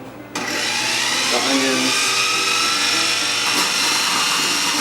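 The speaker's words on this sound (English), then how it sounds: "I'm going to grate up these potatoes in here and alternate a little bit with the onions" A food processor grates potatoes and onions, starting with a short quiet moment and then settling into a loud, steady whirring motor drone with a grinding texture that runs unbroken to the end.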